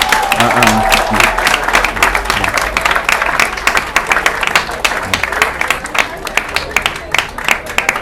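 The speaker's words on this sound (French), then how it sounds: "Et je souhaite vraiment qu'on applaudisse ces jeunes-là" Audience applause at a forum where a French ambassador is speaking, with individual claps clearly audible in a loud, rhythmic, sustained burst, following a brief voice at the start.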